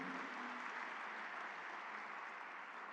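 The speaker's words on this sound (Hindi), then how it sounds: "ताली बजा रहे हो, हर्षनाद कर रहे हो" An audience at a business convention and expo applauds in a steady, dense wash of clapping that holds for a few seconds at a modest distance, without talk.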